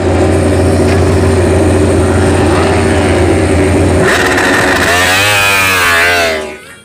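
A toy racing motorcycle gives off a loud, continuous buzzing whine close up, its pitch sweeping and wavering upward near the end before cutting off abruptly.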